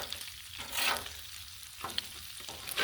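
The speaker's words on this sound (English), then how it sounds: "I get my scraper, scrape off some of the stuff that's stuck to the griddle" A metal scraper working across a Blackstone griddle with bacon fat sizzling underneath, a few distinct scraping strokes with scuffs and clicks over a constant close frying hiss.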